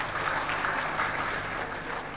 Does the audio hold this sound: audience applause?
yes